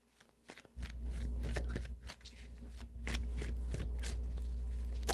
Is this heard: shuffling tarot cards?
yes